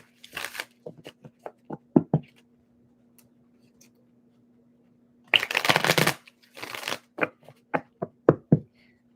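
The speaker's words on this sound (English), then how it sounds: "Two more shuffles for Scorpio." A deck of tarot cards is shuffled by hand, with crisp taps and short riffles followed by two long, loud bursts of shuffling and more quick card knocks, close up with no talking.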